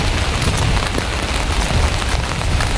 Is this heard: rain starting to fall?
yes